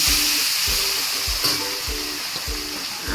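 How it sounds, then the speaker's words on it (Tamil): Leftover rice is stirred and scraped in a hot frying pan, steady sizzling broken by rhythmic low thumps of the spoon about every half second, close and alone. "அப்படியே கொட்டிட்டு இதை நல்லா கிண்டுங்க"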